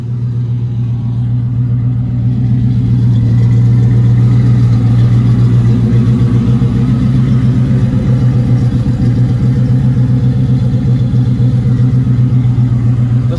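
Steady, close idle of the V8 engine in a 1970 Chevrolet Nova, a low, even rumble with a fine pulsing beat that holds without a break throughout.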